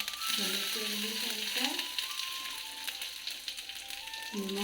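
Panch phoron spices crackle and sizzle in hot oil with a steady frying hiss, broken by a few brief scraping stirs near the pan.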